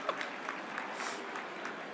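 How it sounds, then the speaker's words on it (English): Crowd clapping at a civic awards luncheon, a brief, fairly soft patter of applause spread across the room, steady throughout with no voices. "You can clap for that, it's okay."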